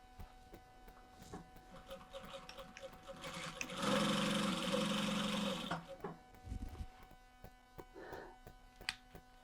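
A Reliable 2700SZ direct drive zigzag sewing machine runs in a single steady whirring burst of about two seconds, close and clear over a low background hum, with brief quieter mechanical sounds before and after.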